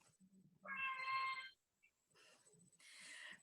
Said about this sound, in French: Sanctionné par le chat de Mathieu. On reconnaît son miaulement